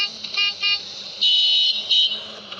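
A bus horn in a bus-driving video game sounds in repeated toots, two short beeps followed by a longer blast and another short one, loud and up front over a low engine drone.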